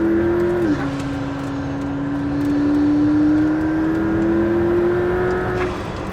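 McLaren P1 hypercar on a track, its engine holding a steady, loud droning note that dips briefly then climbs gradually in pitch as it revs, with whirring road and wind noise underneath.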